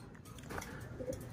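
A racing pigeon arrives home from a 114 km summer training race from Pagbilao, Quezon, giving soft, low coos at moderate distance over a steady background murmur.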